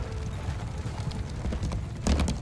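Horse hooves clop in soft, uneven, overlapping patter as cavalry moves in the medieval battle game Mount & Blade II: Bannerlord, muffled under low battlefield rumble.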